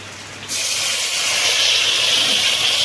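A sudden loud hiss and sizzle from tomato ketchup poured into a pan of frying onion, ginger and garlic. The sizzle stays steady and close, with no talk.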